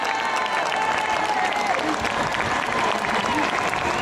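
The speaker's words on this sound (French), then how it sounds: "Applaudissez-les, camarades." A crowd at a political rally in Marseille claps steadily and densely, loud sustained applause with some shouting mixed in, lasting the whole few seconds.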